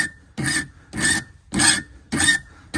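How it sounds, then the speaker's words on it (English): Metal file rasping across the point of a homemade tent stake clamped in a small vise, five steady rhythmic strokes with brief pauses between, close and fairly loud with no talking. "I'm going to put a point on it with a file"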